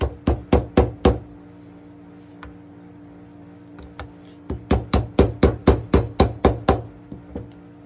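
Sharp metal-on-metal hammer taps driving a pin out of a 1956 1911 pistol, a quick run of five strikes, a pause with a couple of light ticks, then a longer rapid series of about eleven loud close blows.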